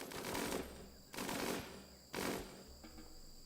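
Bursts of automatic gunfire ring out in RimWorld Odyssey: three rapid rattling volleys, each about a second long, separated by short gaps and fairly loud with no talk over them.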